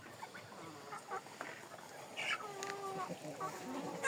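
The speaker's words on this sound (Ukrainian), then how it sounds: "Ось о, джерсійський півник." A Jersey rooster gives a few short clucks and squawks close by, over steady farmyard background noise and other birds.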